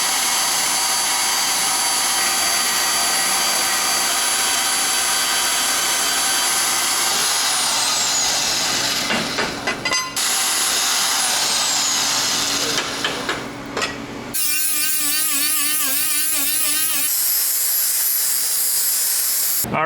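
A power tool cuts thick quarter-inch metal plate for a Miata engine mount, a loud, sustained whining grind that shifts pitch, cuts out briefly, resumes, then changes to a harsher, pulsing tone near the end.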